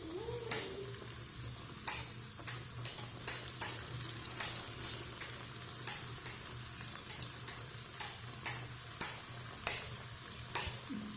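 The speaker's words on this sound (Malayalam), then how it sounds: "ഇതുപോലെ നമുക്ക് ഭൂരിയും പൊരിക്കാം" Puri dough deep-frying in hot oil in a home kitchen, a steady faint sizzle broken by regular sharp clicks and taps of a utensil against the pan, with no talk.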